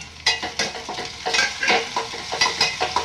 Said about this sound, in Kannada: ಟೊಮೆಟೊ ಎಲ್ಲ ಎಣ್ಣೆಗೆ ಫ್ರೈ ಆಗಬೇಕು